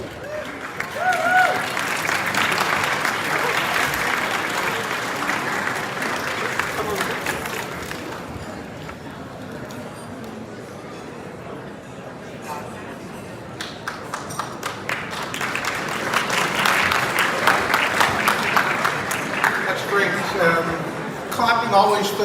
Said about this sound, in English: Clapping always fills the awkward pauses in the speech